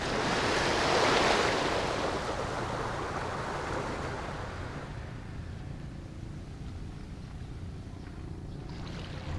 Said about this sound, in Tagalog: Ang ganda ng karagatan guys, oh.